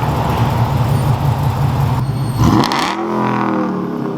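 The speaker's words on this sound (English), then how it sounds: "Just listen to this truck." A loud Ford F-150 pickup truck engine revs hard, rising in a surging roar before dropping back to a rumbling idle, close by with no talking.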